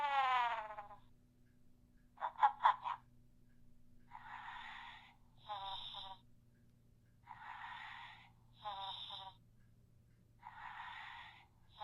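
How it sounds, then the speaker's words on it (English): Thready Bear animatronic toy making a snoring sound, a peculiar wheezy snort followed by repeated breathy bursts at a steady rhythm, close and fairly quiet over a low electronic hum. "That's a very peculiar snore."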